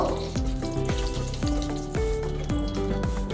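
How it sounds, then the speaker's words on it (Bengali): Whole cumin seeds and a bay leaf fry in hot mustard oil in a pan, giving a steady close sizzle broken by repeated scraping stirs of a spoon, with no talking. "তেলটা গরম হয়ে গেলে এর মধ্যে দিয়ে দেবো হাফ স্পুন গোটা জিরে আর একটা তেজপাতা কয়েক সেকেন্ডের জন্য ভেজে নেব"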